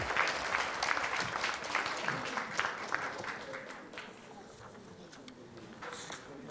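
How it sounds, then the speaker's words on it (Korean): Audience applause fills a hall at a party's presidential nomination event, as candidates await the election committee chair's announcement of results; steady, moderately loud clapping runs throughout, gradually thinning toward the end. "큰 박수 부탁드리겠습니다."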